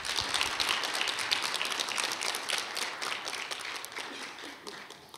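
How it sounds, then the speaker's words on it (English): An audience applauding at the Tunisian launch of the Hyundai Venue, dense steady clapping from many hands that carries on evenly and fades slightly toward the end, with no one speaking. "Please give a huge round of applause."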